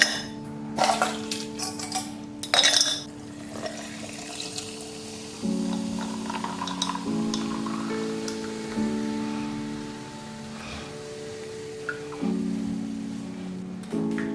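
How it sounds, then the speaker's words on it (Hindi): Ice clinks and rattles in a glass as a virgin mojito with pressed lemon juice is stirred, a few sharp knocks early on, then softer movement beneath steady background music. "Give it a nice stir."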